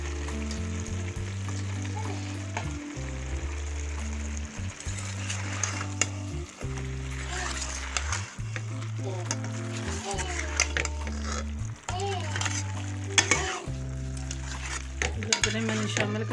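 Chicken necks fry noisily in a pan with turnips, coriander and mint, a constant loud sizzle broken by stirring scrapes and utensil knocks, over a low repeating background tone.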